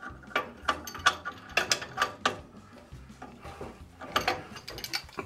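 A pipe wrench works a loose pipe nipple out of a furnace gas valve, producing a close series of irregular metallic clicks and ratcheting scrapes with no voices.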